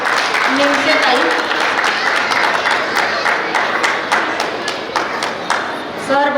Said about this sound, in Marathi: जोरदार टाळ्यांनी स्वागत करूया निमसे ताई.